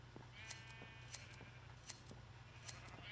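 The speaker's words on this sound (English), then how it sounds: "you take the shears and you go through" In Minecraft, shears snip at sheep in four crisp, evenly spaced clicks, while soft bleats sound between the cuts over a faint background hum.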